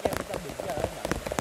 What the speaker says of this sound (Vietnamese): Mưa ở trên đầu nguồn đang về rất là to